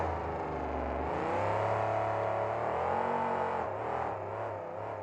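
A monster truck engine revs hard and roars continuously at an arena event, rising and falling in pitch as the truck spins donuts, loud and close with no talk over it.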